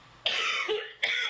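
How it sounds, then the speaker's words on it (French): A woman coughs in two short, harsh bursts, close and loud, with a brief pause between them. "j'ai ouvert la fenêtre, ça y est, je tousse"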